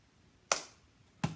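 One sharp hand clap rings out in a gym during a basketball catching drill, followed about 0.7 seconds later by a duller thud as the ball is caught, with near silence around both.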